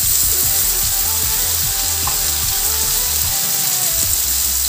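Chopped tomatoes dropped into a pan of eggplant and salted fish curry, a steady loud sizzle and frying hiss with occasional stirring scrapes, close up, no voices.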